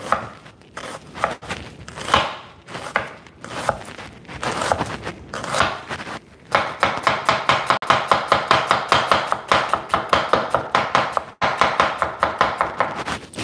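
A knife chops an onion very thin on a cutting board, irregular cuts at first, then a fast, steady run of crisp, close taps with no talking.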